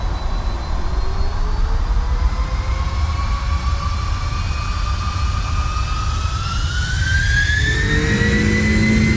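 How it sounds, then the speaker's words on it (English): PMDG 747-400 jet engines spool up in Prepar3D, a loud continuous roar with whining tones that rise steadily in pitch as power builds, a deep rumble underneath and no voices. "Those engine sounds are amazing"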